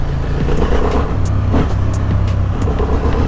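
A 2023 Honda Hornet CB750 roadster's twin-cylinder engine pulls at low revs, a close, throbbing exhaust note that rises and falls slightly with gear and throttle changes as the bike rides along.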